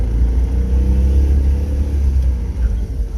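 A British Isetta microcar brakes hard, giving a steady loud low rumble of engine and road noise that swells slightly near the end, with no voices.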